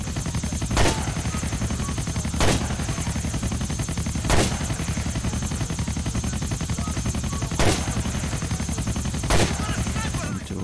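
Gunfire in Grand Theft Auto: The Ballad of Gay Tony: five sharp shots spaced a second or two apart punch through a steady, loud helicopter-like drone that runs the whole time.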